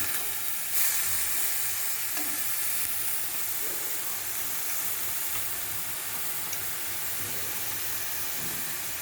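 A spiced banana-stem curry sizzles and fries steadily in a pan while being stirred, a dense continuous hiss close up with no talking.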